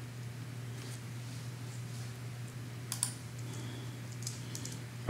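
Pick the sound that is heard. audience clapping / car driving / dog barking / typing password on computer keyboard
typing password on computer keyboard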